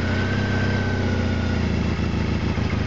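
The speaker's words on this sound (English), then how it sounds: "and we got the bike running" A motorcycle engine runs at idle, a steady, loud, close mechanical rumble with a continuous low pulsing throb and no talk.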